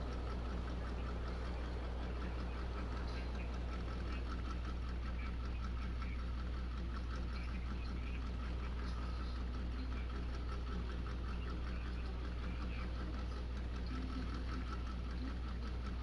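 Hummer and Blazer engines idling in the off-road driving game Mud Runner make a steady, low, continuous rumble with a fine rapid pulse, holding unchanged and moderately quiet throughout with no speech.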